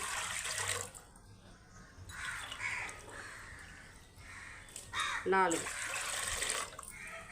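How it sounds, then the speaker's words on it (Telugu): Water splashes in brief pours from a glass into a pot with sorghum, with pauses between them, fairly quiet, while a crow caws loudly nearby partway through. "4 గ్లాసులు వాటర్ పోసుకోవాలి మనం"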